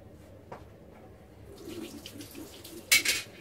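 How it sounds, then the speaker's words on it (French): A hot carburettor part is rinsed under a running tap, the water flowing steadily at close range and swelling into a louder splash near the end, with no talking. "Je vais le passer un petit coup sous l'eau parce que ça chauffe."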